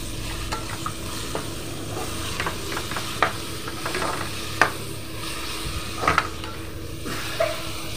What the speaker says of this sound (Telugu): టమాటాలు కూడా మగ్గిన తర్వాత వంకాయలు కరివేపాకు వేసి ఒకసారి కలపాలి